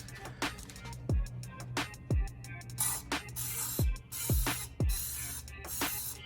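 Trigger mister sprayer loaded with American Detailer Garage Fusion foaming detailing solution diluted in water, giving a series of short, close hissing spray bursts with brief pauses between them, no talk.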